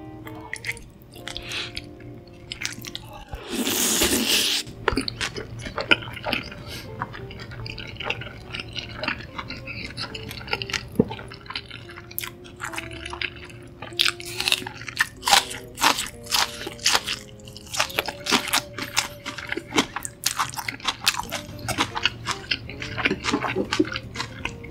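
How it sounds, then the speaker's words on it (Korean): Homemade fried chicken being bitten and chewed up close, with repeated crisp crunches and wet chewing in an irregular rhythm, plus one loud burst early on, and no talking. "마지막 한 입은 가장 맛있게 먹어보겠습니다."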